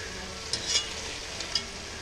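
Strips of bacon hiss and sizzle faintly in a frying pan, a steady soft crackle with a few brief clicks of tongs, no talking.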